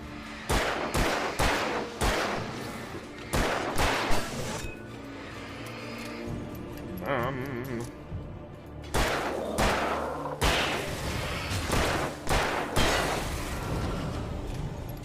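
Gunshots in Alan Wake Remastered: repeated sharp loud shots in irregular bursts, some fired in quick pairs, with a quieter ambient gap midway and no talking.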